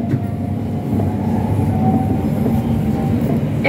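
Arriva Rail London class 710 electric train running towards Barking Riverside, a steady low rolling rumble with faint wheel noise and a thin whine, heard close from inside the carriage, with no talking.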